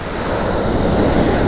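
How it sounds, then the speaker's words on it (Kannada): Heavy monsoon rain pours near Surlabi waterfall outside Sakleshpur as a loud, dense, unbroken roar, close and steady with no individual drops standing out. Nobody speaks. "ಮಳೆ ಮಾತ್ರ ಅಪ್ಪ ಸಕ್ಕತ್ತಾಗಿ ಬರ್ತಾಯಿದೆ ಮಳೆ"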